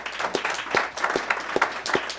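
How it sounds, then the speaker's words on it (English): Audience applause for Christine Kay at a Nieman Foundation panel: a modest room of people clapping, with individual claps standing out from a dense, even patter. "I wanted all of us to give an applause to Christine Kay."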